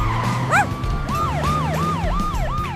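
A police siren wails in repeated rising and falling sweeps, loud and close, with a vehicle engine rumbling underneath.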